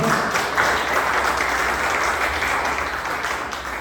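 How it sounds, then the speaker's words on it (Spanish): A church congregation applauding in a large hall, a dense, steady wash of many hands clapping together that holds at an even level throughout. "Denle un aplauso al Señor"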